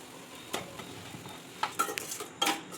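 Mushrooms from the Kolli hills being stirred with turmeric and salt in a pan, a few separate scraping and clinking strokes of a utensil against the metal, fairly quiet with soft background between strokes.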